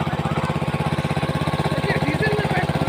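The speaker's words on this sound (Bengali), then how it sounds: "পেট্রোল অকটেনে চালাচ্ছি, অকটেনে চাললে মেশিনটা ভালো থাকে, এই জন্য অকটেন দিয়ে চালাচ্ছি।" A small petrol water pump engine runs on octane fuel with a steady, rapid, loud chugging pulse that stays close and continuous throughout.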